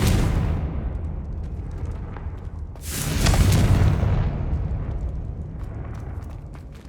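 A Confringo fire spell in Hogwarts Legacy goes off as a deep, rumbling blast that swells and fades, set against a low continuous roar of background game ambience.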